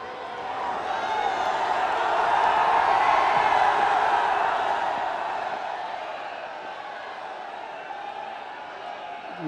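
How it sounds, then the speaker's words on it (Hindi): A large crowd at a Prime Minister's public event in Varanasi cheers and applauds, a broad roar that swells over the first few seconds, then gradually fades and thins toward the end. "आप सबकी तालियों के साथ।"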